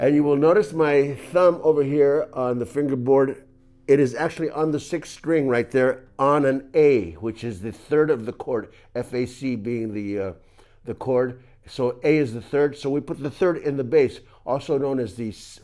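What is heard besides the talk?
No everyday noises stand out.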